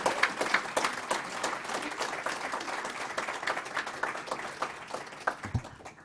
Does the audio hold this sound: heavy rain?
no